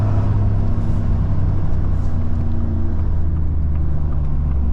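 A Ford F150 truck with a 5.0 engine drones loudly and steadily from inside the cab during a night pull, a constant deep engine rumble with no talk over it.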